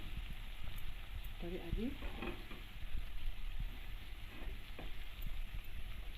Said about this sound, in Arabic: الفول خد تشويحه حلوه كده